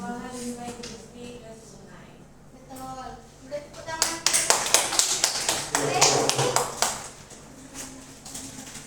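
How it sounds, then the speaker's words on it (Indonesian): A classroom of sixth-grade pupils claps hands in a rhythmic burst of sharp, fairly close claps, following a stretch of talking, with voices still mixed in. "Udah tepuk tangan."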